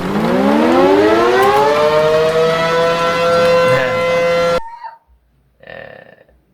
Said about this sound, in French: je mets un effet de son de la fameuse sirène en vrai